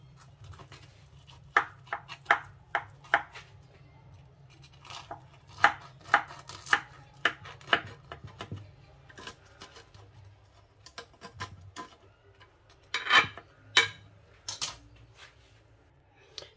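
A knife cuts through a baked family-size tray of tacos, giving sharp crunchy clicks in uneven clusters, close and distinct over a soft low background hum, with no talking.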